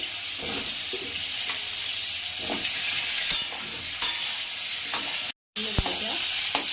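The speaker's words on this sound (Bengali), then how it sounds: "আলুগুলো একটু ভেজে নেবো।" Potatoes fry in oil with a continuous close sizzle, broken by several sharp scrapes and knocks of a spatula stirring the pan and one brief dropout.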